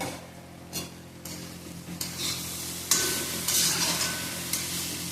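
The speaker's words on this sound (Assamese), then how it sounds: "আৰু একেবাৰে শেষত মই এতিয়া ঘিউ দিম" Banana flower fry sizzles in a pan after ghee is added, with bursts of spatula stirring and scraping that grow louder and busier as cooking continues.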